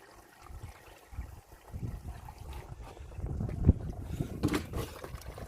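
Deionized water trickles and gurgles faintly through the coolant system of a Mini One during a flush, a low, steady wash of running water that swells slightly toward the end.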